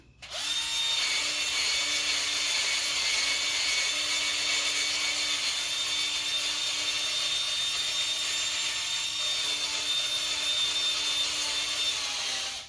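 A 12-volt cordless drill runs continuously for about twelve seconds, a steady high whine with a faint motor hum, close and unbroken, starting and stopping abruptly.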